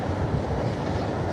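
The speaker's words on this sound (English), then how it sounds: "Yeah, it is a little bit windy." Wind buffeting a microphone outdoors at a demolition site in Blackpool, a continuous low roaring rumble with no breaks and no voices.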